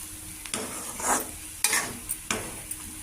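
Cabbage fry with carrot and potato is stirred in a pan after chili powder goes in, with a soft background sizzle and three or four distinct scraping strokes of the spoon, quiet and close.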